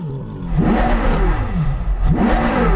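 A powerful V10 sports car engine revs hard twice, pitch sweeping up and falling back, loud and close with a rasping exhaust edge.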